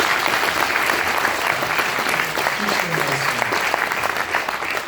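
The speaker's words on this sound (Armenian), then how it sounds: "Ծափարեք" A concert audience at a folk song school named for Jivani applauds at the close of the performance, a dense, steady clapping that holds loud throughout, with faint voices underneath.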